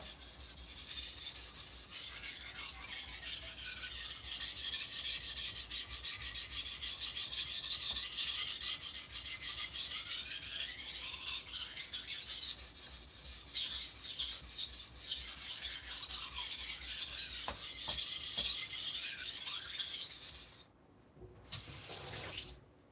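A kitchen knife is drawn across a wet whetstone with only its own weight, making a long run of steady, close scraping and rasping strokes. The stone is wet, so water sounds mix in. The sharpening cuts off abruptly near the end.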